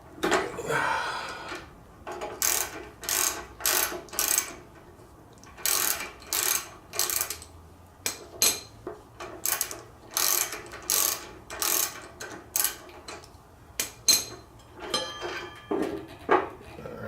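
A hand ratchet clicks in quick repeated bursts while brake calipers come off a Kawasaki Vulcan 1600 Classic motorcycle, the sharp close ticking broken by short pauses.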